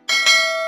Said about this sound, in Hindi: बेल आइकन की घंटी पर